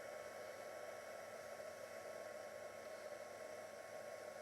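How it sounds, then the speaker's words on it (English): An embossing heat tool runs steadily with a continuous fan whir and airy hiss, even and unbroken, fairly quiet and heard alone. "these heat tools are not the same as a hairdryer"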